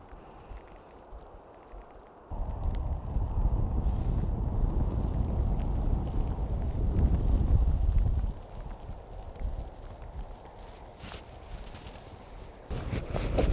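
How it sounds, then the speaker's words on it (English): Gusty wind blows outdoors on the West Highland Way in cold weather, roaring steadily against the microphone with heavier buffeting in the middle and easing toward the end, with no one speaking. "going into the forest will at least get us a break away from the wind"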